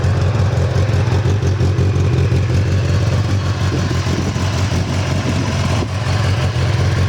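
A used 2015 Kawasaki Ninja ZX10R sport bike idles close by, a loud, steady low rumble with an even pulsing throb that holds unchanged throughout.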